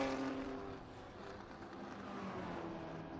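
Historic endurance race cars at Estoril, one passing a Porsche, give a steady distant engine roar with a slight rise and fall as the cars go by, heard alone.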